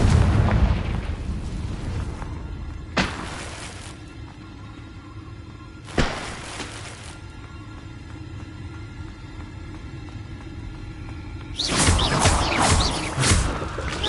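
Confringo blast spells in Hogwarts Legacy go off as three separate booming explosions a few seconds apart, each a sharp crack with a rumbling tail. A low background rumble runs throughout, and the last blast is longer and more crackling.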